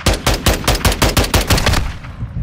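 Rapid automatic gunfire from the video game Modern Warfare 2 in multiplayer, a loud close burst of about a dozen evenly spaced shots over two seconds that cuts off and leaves a brief fading tail.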